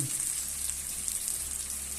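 Soft, steady bubbling and light sizzling of food cooking in a pot, a continuous gentle hiss close by with no voices.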